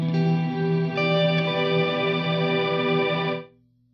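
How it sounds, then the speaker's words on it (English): A sustained electric guitar chord through a Neunaber Immerse reverb pedal, ringing with a washy, chorused reverb tail that holds steady, then drops off abruptly near the end, leaving a faint hum. "I can let my reverbs ring longer and fade out longer also"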